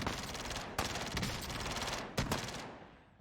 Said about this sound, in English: now there's a decoy grenade going off in front of us and an enemy's pushing in